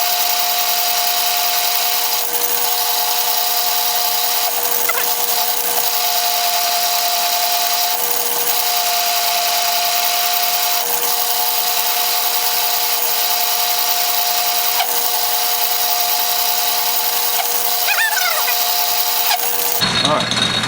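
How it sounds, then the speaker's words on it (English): An Atlas metal lathe turns a 1-1/2 inch 6 TPI bolt while a carbide tool cuts relief, giving a loud steady whirring hum with scraping cutting noise and faint intermittent squeals, sustained and close, until it cuts off abruptly at the end. "I've got a carbide tool up there now, and I'm just going to cut some relief."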